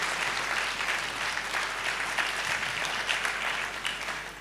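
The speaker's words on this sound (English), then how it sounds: "let's give another applause to our presenter and the chairman" An audience at a diocesan synod gives a sustained round of applause for a presenter and chairman, with dense, even clapping that runs the whole time before trailing off slightly at the end.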